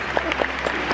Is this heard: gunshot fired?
no